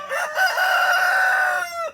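A Rhode Island Red rooster crows once, loud and close, a drawn-out cock-a-doodle-doo lasting nearly two seconds with no talk.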